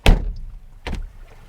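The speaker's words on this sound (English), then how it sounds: "That's the noise you're going to hear if you don't shut the rear portion of the door first." The rear door of a Mazda MX-30 electric car thuds shut twice, a heavy slam followed by a second softer thunk less than a second later, as happens when the door sections are closed out of order.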